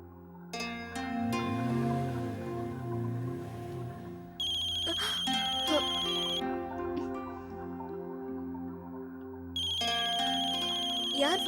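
A mobile phone ringtone plays a repeating electronic melody in loud, bright bursts with short pauses between phrases.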